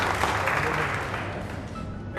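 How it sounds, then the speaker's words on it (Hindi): Dense, loud applause from an audience at a Hindi talk, a continuous wash of clapping filling the whole moment without pause. "जोरदार ताली बजाइए जेनस के लिए"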